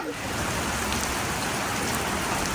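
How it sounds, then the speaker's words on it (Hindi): Steady rain falling outdoors as a storm eases, a dense continuous hiss of drops on surfaces, close and fairly loud throughout. "बारिश जो है बस अब थमने को है।"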